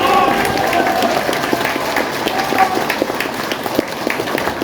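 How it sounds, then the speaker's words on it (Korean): An audience at an office opening event claps in a scattered patter of individual claps, steady but not thunderous, over a murmuring room. "다시 한번 뜨거운 박수로 맞이해주시겠습니다"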